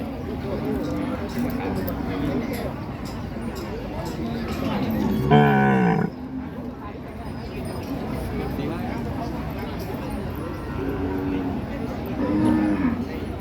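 Cattle at Ban Han livestock market in Maha Sarakham, with one loud, drawn-out moo rising from the steady murmur of crowd chatter and market noise, plus a fainter low call near the end.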